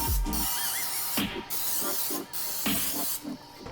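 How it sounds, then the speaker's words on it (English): Cooking spray hisses into lined cake pans in repeated short bursts, four or five close sprays separated by brief pauses. "I'm gonna spray them again with the cooking spray generously."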